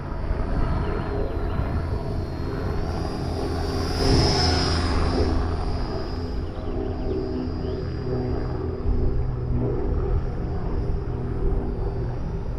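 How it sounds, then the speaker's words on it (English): A propeller airplane drones overhead, its engine swelling to a peak and fading again over a steady windy rumble. "Another real propeller airplane coming around here somewhere."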